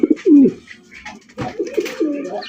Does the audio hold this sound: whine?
no